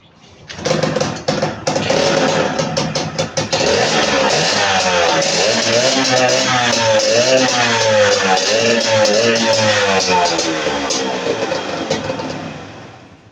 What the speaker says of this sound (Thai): เดี๋ยวครูมาติดเครื่องใหม่